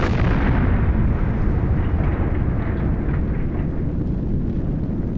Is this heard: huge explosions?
yes